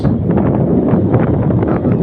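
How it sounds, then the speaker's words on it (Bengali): Strong wind sweeps across a rooftop under stormy, cloudy skies, buffeting the microphone in a dense, low, continuous roar. "ছাদের উপর থেকে বাতাস শরীরে লাগে যায়, ঠান্ডা হবে"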